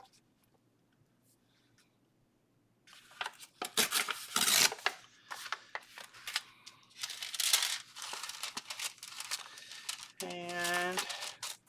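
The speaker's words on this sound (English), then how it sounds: "And then I'm going to tear it off right down here." Junk mail paper torn by hand into strips for a journal card, giving a run of crisp crinkling and ripping bursts after a quiet start, with a brief tonal rattle near the end.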